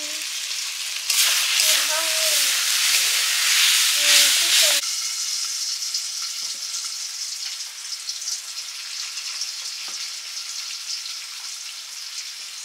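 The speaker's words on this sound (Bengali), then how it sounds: "পটল আলু ভেজে নেব পটল আলু তরকারির জন্য" Pointed gourd and potato fry in mustard oil in a wok, starting with a loud crackling hiss that settles into a softer steady sizzle with occasional stirring clicks, heard up close without speech.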